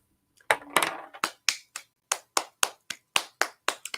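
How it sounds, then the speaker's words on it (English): Hands clapping in a round of applause, a single person's sharp, distinct claps close to the microphone, irregular at first and then settling into a steady, loud rhythm. "I have to give her a round of applause"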